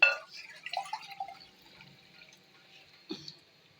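Excess water poured off washed poppy seeds in a bowl: a few small, close splashes and drips, with a brief sharper splash near the end, quiet and without talk.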